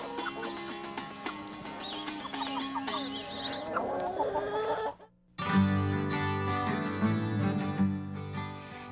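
Chickens clucking at an animal sanctuary, a steady stream of close, busy clucks and calls from several birds, briefly cut off near the middle before resuming just as loud.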